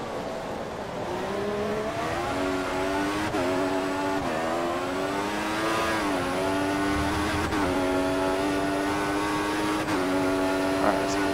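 A Formula 1 race car engine screams in the F1 2014 racing game, a steady loud high-pitched whine climbing through the revs with quick dips at each gear change, running continuously for about eleven seconds at the Australia track.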